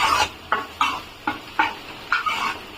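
Curry leaves stirred and frying in a pan, with six or seven sharp scraping sizzle bursts coming at a steady rhythm, close and moderately loud over a low background crackle.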